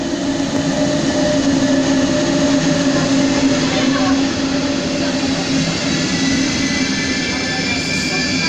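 A regional express train hauled by a class 146 electric locomotive arrives at a platform in Augsburg or Ulm station, a steady loud rumble of rolling stock with faint tonal hum and whine, no speech.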